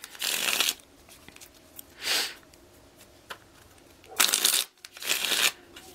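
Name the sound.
shuffling tarot cards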